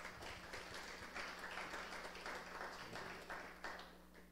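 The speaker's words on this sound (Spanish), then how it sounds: "Denle un aplauso al Señor." A church congregation claps together in a soft, steady patter that swells and fades, heard faintly at a distance over a low electrical hum.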